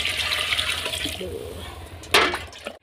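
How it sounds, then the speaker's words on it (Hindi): Water poured into a pan of cooking vegetables with tomatoes and green chillies, a hissing rush early on and a sharp splashing burst near the end, close and fairly loud, with faint voices in the background. "अब जो है ना पानी डाल रहे हैं।"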